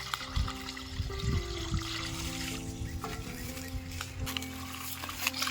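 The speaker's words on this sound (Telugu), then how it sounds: "రైస్ అయితే మంచిగా కడుక్కొని" Soaked basmati rice is swished and rinsed in water outdoors under mango trees, giving soft, irregular sloshing and trickling close by, with a low background rumble and no talk.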